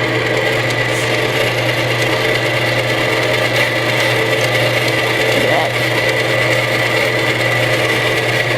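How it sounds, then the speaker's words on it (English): A stand mixer with a paddle attachment, running on its first setting, beats torte batter containing shortening, giving a steady, continuous motor whir with a low hum throughout. "gonna mix it with a paddle attachment on the first setting"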